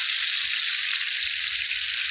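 Pointed gourd (potol) frying in a pan, a loud, steady, bright sizzle of oil running continuously, with faint low clatters of stirring underneath.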